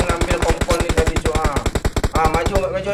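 Rapid automatic gunfire from the PUBG Mobile battle royale game rattles in a steady burst of about two dozen sharp, loud shots that stops abruptly near the end.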